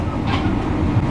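Cikuray train hauled by a CC 206 diesel locomotive passing straight through Pleret station on a single-track line, heard from aboard as a steady loud low rumble and rolling rail noise.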